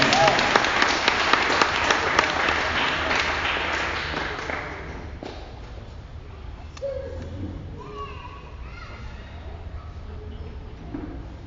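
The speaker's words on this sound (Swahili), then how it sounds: "Pigia Bwana makofi kama unataka." A church congregation claps for the Lord, the applause loud and dense at first, then thinning and fading. Voices, including children's, carry on faintly after the clapping dies down.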